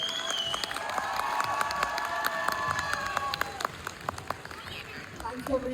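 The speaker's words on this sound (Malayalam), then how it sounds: "നിങ്ങൾക്ക് വിനിച്ചേട്ടനുള്ള സ്നേഹം നമ്മളൊരു കയ്യടി ആയിട്ട് കൊടുക്കണം" A live audience claps and cheers in warm, sustained applause, loud and close, with scattered shouts and a voice carrying over the crowd.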